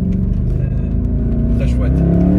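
A Mercedes C63 Black Series with 517 hp gives off a steady, loud, deep engine and exhaust rumble close by. It runs continuously through the whole short stretch.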